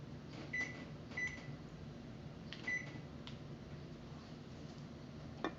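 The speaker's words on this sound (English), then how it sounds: "now Mommy will put it in the microwave" A microwave oven runs at 50% power while cookie dough heats inside, giving a steady low hum with a few faint clicks and ticks, quiet and close with no voices.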